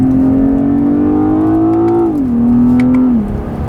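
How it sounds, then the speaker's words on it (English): BMW 840i Gran Coupé inline six-cylinder engine accelerating on a wet road: a loud, rising engine note with gear-change dips near two seconds and again just past three seconds, alone and close. "So we are definitely disturbing their silence with this inline 6-cylinder."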